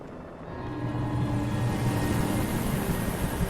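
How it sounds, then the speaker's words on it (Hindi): A helicopter approaches in the video game Alan Wake Remastered, a low rotor rumble and engine drone swelling up from quiet and holding steady and fairly close. "हेलीकॉप्टर आ गया भाई।"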